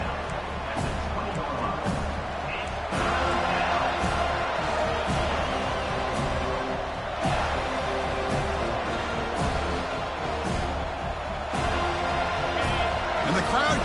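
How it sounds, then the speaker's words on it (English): A football stadium crowd roars and cheers continuously while the defense is in the red zone, a loud, sustained wash of noise with rhythmic swells under a commentator's voice. "the crowd coming to life here, trying to help this defense down in the red zone"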